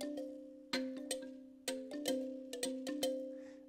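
Plucked thumb piano notes in an electronic track ring out alone in a sparse, irregular pattern, each soft attack followed by a sustained, decaying tone, quiet and close.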